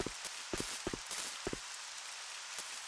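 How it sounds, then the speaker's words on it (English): Rain patters on sand in the Resident Evil Code Veronica game, a constant soft hiss with sharp, irregular crackling bursts scattered on top. "that's just the noise of the rain hitting the sand"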